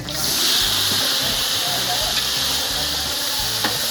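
Onion and garlic frying in hot oil in a pan, a loud continuous sizzle with bright hissing and intermittent stirring scrapes, steady throughout while a person talks over it.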